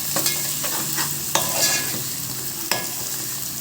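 Whole boiled eggs fry in a pan, giving a continuous sizzle broken by a few sharp clinks and scrapes as a spoon turns them against the metal.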